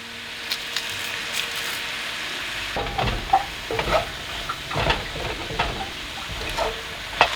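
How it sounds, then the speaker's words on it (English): Onion and garlic sizzling in a pan for enchiladas, a steady frying hiss broken by repeated scraping stirs and clinks of a utensil, close and fairly loud, with no talking. "Onions in here cooking."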